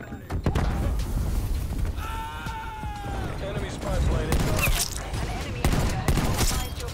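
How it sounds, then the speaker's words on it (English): Rapid minigun fire from the Death Machine scorestreak in Call of Duty: Black Ops Cold War multiplayer, a dense sustained burst amid other battlefield gunfire and game effects, with a player talking over it. "There's the death machine."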